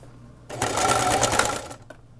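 A sewing machine stitches a drawstring bag seam in one short, close burst of rapid mechanical whirring, with a quiet pause before and after.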